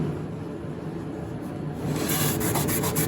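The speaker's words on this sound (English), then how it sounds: "now let's wipe off the excess" A rag wipes excess filler off a wooden Old Town canoe, quiet at first and then brisk, close rubbing strokes in a quick repeated rhythm, with no talk.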